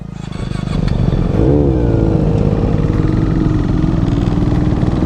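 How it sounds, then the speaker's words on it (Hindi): A Suzuki Hayabusa superbike's engine revs hard and steadily, loud and close, with a rising, wavering pitch as it is pushed for a wheelie on a public road. "अरे सुपर बाइक पे व्हीली भाई, कैप्टन भैया ट्राई करते हैं"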